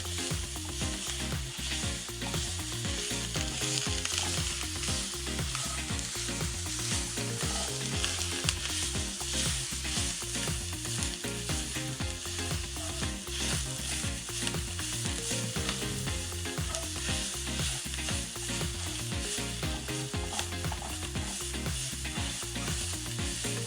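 Bengali masala with tomato puree frying for egg curry, a dense, loud continuous sizzle with stirring throughout, close up and without speech.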